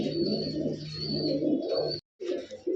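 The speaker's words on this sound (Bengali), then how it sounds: "এগুলো কিন্তু ভেজিলেনের কবুতর" Pigeons in a fancier's loft, giribaz and colored breeds, cooing in a low steady murmur that carries on continuously, broken by a brief silence near the end before the soft cooing resumes.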